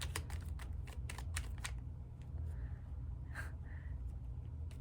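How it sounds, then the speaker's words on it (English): A deck of cards being shuffled during a reading: a quick run of crisp riffling snaps up close, then quieter scattered flicks and soft rustles over a low background hum. "Just had a card fall out, but I am going to keep shuffling."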